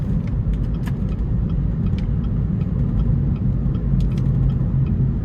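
A 2017 Chevy Cruze Hatchback Premier RS with the 1.4-litre turbo engine on a drive, a steady low engine and road rumble heard from inside the cabin, with occasional light rattles and clicks over the constant hum.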